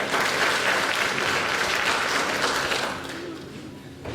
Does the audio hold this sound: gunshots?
no